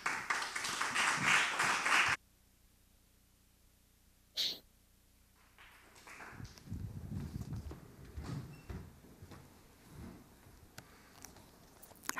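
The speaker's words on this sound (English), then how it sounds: "je vous invite donc à l'applaudir et à l'accueillir sur scène" Audience applause welcoming a speaker on stage at an immersive storytelling film festival forum, a short loud burst of clapping that stops abruptly, followed by quiet room noise and faint handling sounds.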